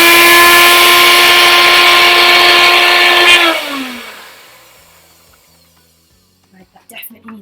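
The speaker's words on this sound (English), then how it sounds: "So I've got my blender here." A countertop blender whirs loudly at a steady high pitch while pureeing a big bunch of coriander for green chutney, then spins down and stops, followed by a few soft clicks and handling sounds.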